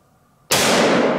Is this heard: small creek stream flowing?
no